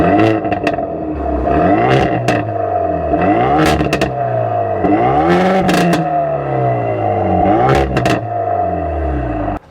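A Hyundai Veloster N's exhaust blares through repeated loud revs, each sweep rising sharply then falling back, with crackles and pops between bursts, close and unaccompanied by talk.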